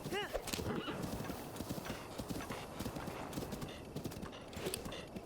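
Rapid, steady hoofbeats of a galloping horse in Breath of the Wild fill the scene, with a short whinny at the start and a busy outdoor game ambience underneath.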